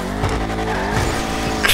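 A Chevrolet Camaro in GTA Online on PS5 accelerating hard, its engine note rising steadily with tire squeal, loud and close, with no talk over it.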